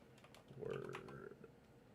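Quick typing on a computer keyboard in a podcast setting: a short, soft run of key clicks, close and faint, heard alone without talk.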